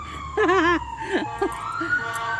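A police-style siren yelps with quick warbling bursts, then shorter whoops, heard from a short distance over a low background hum.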